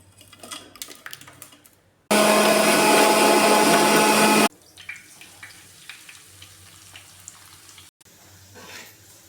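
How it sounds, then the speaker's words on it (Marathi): A kitchen mixer grinder grinds roasted garlic and green chilies into a dry chutney, a loud, steady whirring roar of about two seconds set between quieter handling sounds. "आता मी याला, माझ्याकडे पाटा नाही तर मिक्सरमध्येच वाटून घेणार आहे मी"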